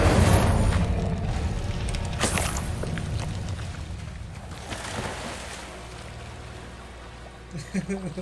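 Incendio fire spell cast in Hogwarts Legacy: loud broadband whooshing bursts over a constant low game rumble, with a strong flare near the start and another midway, fading toward the end.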